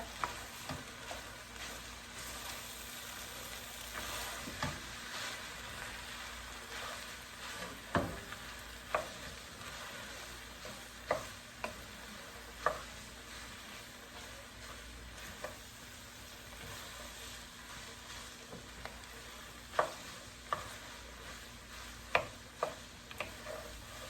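Noodles are stirred and tossed in a frying pan over a continuous sizzle, with a utensil scraping and clicking against the pan at irregular intervals throughout.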